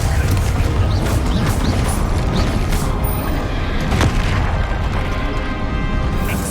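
Bombarda spell blasting in Hogwarts Legacy amid combat, a dense loud roar of bursts and booms with a sharp crack near the middle, continuous game noise throughout.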